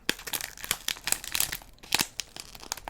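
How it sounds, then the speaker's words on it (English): A Dolce & Gabbana cologne bottle box is pulled free of crinkly packaging, making close, busy crackling and crumpling with sharp tearing bursts throughout. "So let's pull this out of the packaging here."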